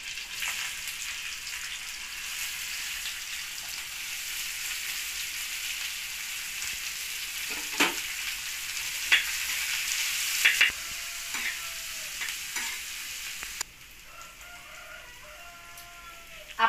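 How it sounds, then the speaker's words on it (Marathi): Chopped onion sizzles steadily in hot oil in a pan after green chillies, a continuous frying hiss with a few sharp spatula scrapes and taps, close and moderately loud, with no talking. "आपला कांदा छान असा फ्राय झालेला आहे"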